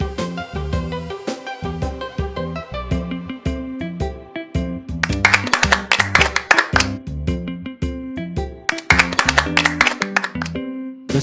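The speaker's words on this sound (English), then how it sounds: "The sound of clapping." Hand clapping in a children's cartoon about human sounds, a steady run of sharp, close claps keeping time over a loud, bouncy music track, growing denser midway.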